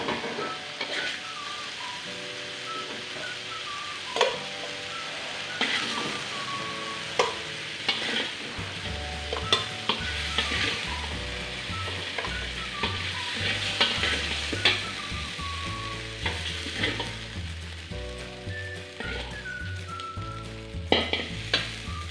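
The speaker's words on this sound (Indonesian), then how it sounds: "ini ayamnya sudah setengah matang, sekarang mau Bunda pindahkan di dalam panci" Half-cooked chicken pieces sizzle and fry in a pan while a spatula stirs and scrapes them, with steady crackling broken by irregular clanks and taps of the utensil against the cookware.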